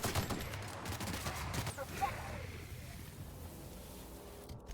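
A space AK rifle fires in The Outer Worlds video game, a burst of gunshots at the start fading into rumbling ambience, with a faint voice underneath.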